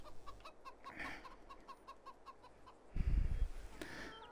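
Chickens and a cockerel in Farming Simulator 22 cluck in a quick repeating series of short calls at moderate distance, with a brief low rumble near the end.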